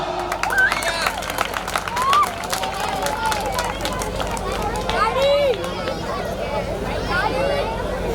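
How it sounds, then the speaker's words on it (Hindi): A crowd at a Garden Housing Diwali 2019 celebration in Kompally claps for the winner of a 32-inch LED TV lottery draw, scattered close claps over steady chatter and voices. "अरे तालियां।"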